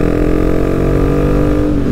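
A motorcycle engine revs hard and steadily close by on a steep slope, a loud continuous mechanical roar with strong low harmonics holding throughout.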